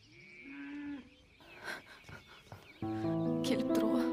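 A calf moos several times with drawn-out, tonal calls, loud and close. Faint bird chirps are heard in the background.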